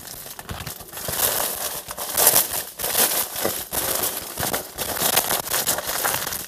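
Packaging being unwrapped from a BEC 4-9x28 rifle scope, with continuous close crinkling and tearing of plastic and paper, loud and uneven, with no talk.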